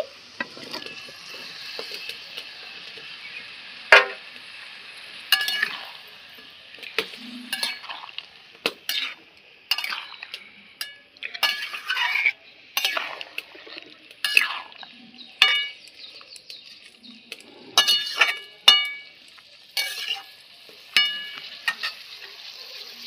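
Fried vegetables and a splash of water hit a hot pan, a soft sizzle running beneath repeated sharp clinks and scrapes of a metal utensil stirring, close by and irregular, with no talking.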